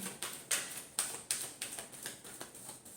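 Tarot cards are shuffled by hand in a quiet room, a series of crisp riffling slaps repeating about every half second, close and moderately soft, with no voices over them.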